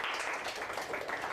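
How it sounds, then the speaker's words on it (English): Audience at a masterclass giving a round of applause, dense steady clapping from many hands heard fairly close and even throughout. "Guys, give yourselves a round of applause"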